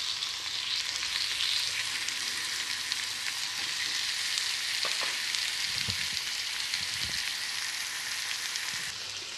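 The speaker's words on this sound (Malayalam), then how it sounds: "നമുക്കിത് വറുത്തെടുക്കാം." Fish fries in hot oil with curry leaves and sliced onion, giving a continuous loud sizzle that holds evenly throughout, with a few soft clatters near the end.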